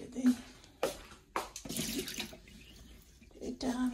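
Tap water runs into a sink to soak household items for cleaning, a fairly faint splashing flow in uneven bursts with a few louder gushes, while a person talks over it.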